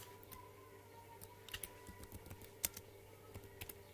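Typing a name on a computer keyboard to enter a string variable in LabVIEW, with quiet, irregular key clicks spread across the few seconds over a low steady background hum.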